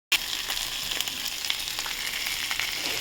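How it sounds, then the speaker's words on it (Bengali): A hilsa fish head fries in a hot pan, the sizzle starting suddenly and then holding as a dense, crackling hiss with small pops scattered through it. "আমি এইভাবে ভেজে নিয়েছি"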